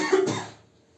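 A single close cough from a man with a cold, short and sharp, fading quickly into quiet in an indoor classroom-style setting.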